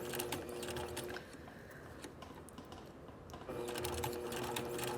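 A sewing machine runs close and clear, stitching a seam with a brief reverse pass, its rapid steady whir dipping slightly in the middle before picking back up at full speed.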